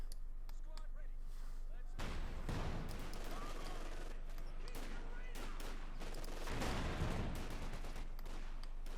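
Bursts of .50 caliber machine gun fire and other gunfire rattle through a Company of Heroes 2 battle, with a loud burst near the start and another later, over constant battlefield rumble and a speaking voice.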